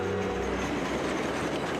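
Steam locomotive 1225 hauling an excursion train between Owasso and Ashley, Michigan, a steady dense rumble and rolling rail noise throughout, with no voices.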